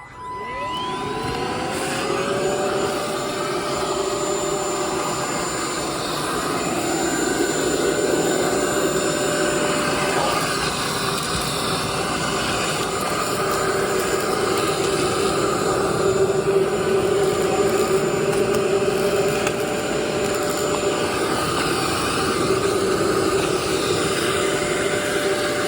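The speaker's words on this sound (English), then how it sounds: "I have this little crevice tool and I want it to vacuum under my oven" Bissell Pet Slim cordless stick vacuum fitted with a crevice tool whirs up to a steady high-pitched motor whine and runs continuously, close and loud, while it cleans under a kitchen oven.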